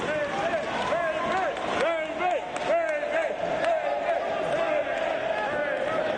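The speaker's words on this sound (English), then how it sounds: "And you hear the crowd getting behind Raven." A wrestling arena crowd roars and chants in support of Raven during a match against CM Punk, a dense sustained mass of voices with rhythmic bursts and loud commentary running over it.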